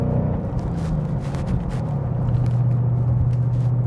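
Cabin of a 2015-2017 Mustang GT with an MBRP aluminized cat-back exhaust cruising at highway speed, a low steady engine drone and road rumble that swells slightly and stays subdued.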